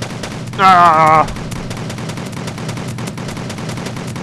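Rapid weapon fire during a Kerbal Space Program car-chase stunt, a dense burst of gunfire-like noise behind a shouted exclamation, over a steady backdrop of game sound.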